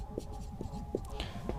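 Chalk or marker strokes on a classroom board during a Hindi-to-English grammar lesson, a few short scratchy bursts spaced irregularly over a steady low room hum, fairly faint and with no talk.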